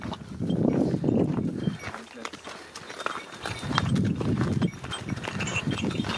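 Horse hooves clip-clopping at a steady walking rhythm on a small trail ride with other animals, close and clear, with people talking over the steps.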